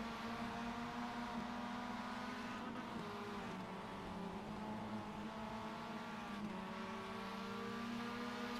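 Mazda MX5 race car engines at Oran Park Raceway in iRacing, a steady close engine drone whose pitch shifts as the car accelerates and changes gear, without pause.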